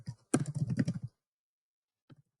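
A rapid burst of computer keyboard typing runs for about a second, close and clear, then a single faint keystroke follows after a silent pause; no voices.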